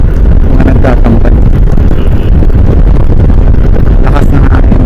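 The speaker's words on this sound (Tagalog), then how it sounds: "Lakas ng hangin mga karaboy" Strong wind roars steadily across the microphone on the Marilaque Highway, a loud continuous buffeting rumble with an engine-like drone underneath and no talking.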